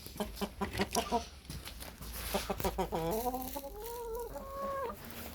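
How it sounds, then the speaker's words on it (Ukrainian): Chickens clucking in quick bursts, then a few drawn-out, rising squawks, close by with steady background noise. "Так, кури."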